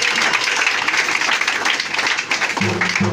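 Worshippers at a French-language church service applaud and cheer in praise, a busy wash of clapping that carries on for about three seconds while a faint musical tone rises near the end.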